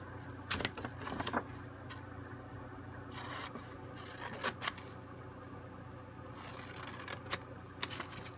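Scissors cut paper for a handmade stationery ephemera box, a few quiet, separate snips and scraping rubs spread across a soft room background.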